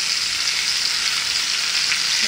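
Fish wrapped in Malabar spinach leaves fries in hot mustard oil, a loud, close, continuous sizzle with steady crackle and no pauses.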